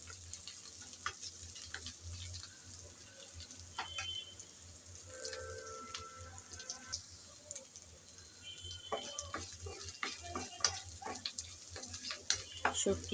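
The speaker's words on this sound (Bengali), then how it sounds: "শুটকিটা ভেজে নিলাম।" Dried fish (shutki) frying in a pan, a quiet steady crackle and sizzle broken by scattered small pops and light scrapes of stirring, with no talk.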